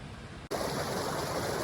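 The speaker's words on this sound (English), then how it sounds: "the small water crossing to get to the waterfall" Flowing water at a small stream crossing on the trail to a waterfall in Olympic National Park, a steady broadband rush that abruptly grows louder and fuller partway through and then holds as a continuous wash, with no voices.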